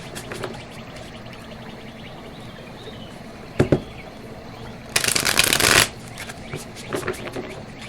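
A deck of tarot cards shuffled close by, a dense riffling burst lasting about a second amid quieter taps and handling sounds.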